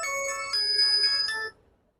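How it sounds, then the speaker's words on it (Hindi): An Infinix phone rings with a short, bright electronic ringtone of a few clear chiming notes that stops abruptly and leaves quiet. "ये जी आपका इन्फिनिक्स का साउंड आ गया।"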